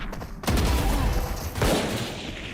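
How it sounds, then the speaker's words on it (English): Bursts of gunfire during a competitive Valorant match, a sharp onset of loud, dense shots followed by a second volley about a second later, with game ambience in between. "They're shooting him."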